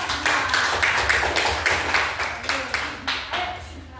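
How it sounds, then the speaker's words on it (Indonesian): A classroom group claps for a student team, a run of roughly rhythmic, fairly close claps lasting several seconds, with some voices in the background. "tepuk tangan untuk kelompok"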